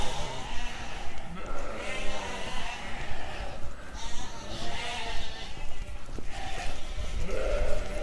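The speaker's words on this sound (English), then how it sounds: "the sheep aren't trying to even overtake me there today, they're just walking behind me nicely" A flock of sheep bleats repeatedly while walking calmly behind a shepherd outdoors, the calls overlapping at close to mid distance over steady shuffling and rustling movement.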